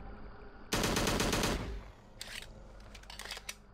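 A rapid, loud burst of gunfire in the Slendytubbies video game lasts about a second, followed by a few fainter shots and clicks.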